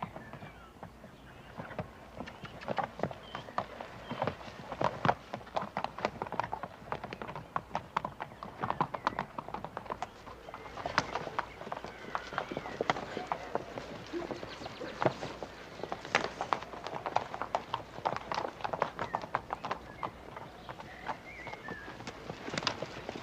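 Horses' hooves clip-clop in an irregular, busy stream of sharp knocks, fairly close, with faint ambient noise and no speech.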